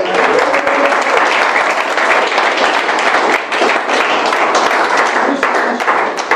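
Church congregation in Paris applauding at a minister's installation service, a loud, continuous wash of many hands clapping close by, with faint voices underneath.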